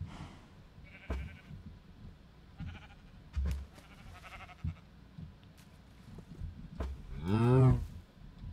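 Cow mooing in the video game Minecraft: scattered soft thumps and knocks give way to a loud, drawn-out low animal call near the end.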